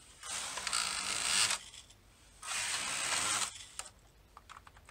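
A Superba double bed knitting machine carriage knits circular rows, giving two long, close, rasping mechanical sweeps of about a second each, separated by a short pause, with faint clicks afterward and no talking.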